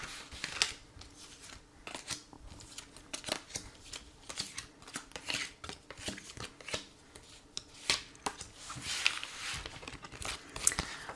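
Tarot cards are shuffled and handled for a card reading, with soft, irregular riffling, tapping and sliding sounds that are close by and fairly quiet and continue throughout.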